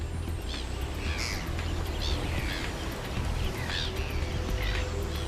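Gulls calling repeatedly over a massive fish bait ball pushed against the sea surface, harsh cries rising several times above a steady roar of water and wind, with no talk.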